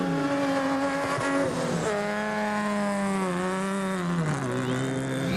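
A Regent Racing Nissan Navara rally truck drives a rally course with a continuous engine roar that rises and falls through gear changes, passing close and loud.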